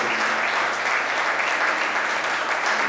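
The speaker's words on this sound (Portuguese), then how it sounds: "Você pode aplaudir o Senhor por isso também?" Church congregation applauding during a Portuguese-language service, a sustained wash of loud, dense clapping that holds steady throughout without voices on top.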